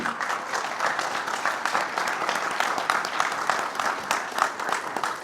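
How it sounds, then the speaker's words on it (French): Sustained audience applause at a New Year's greetings ceremony, steady dense clapping from a crowd filling the room at moderate loudness for several seconds, with no talking over it. "vous pouvez l'applaudir"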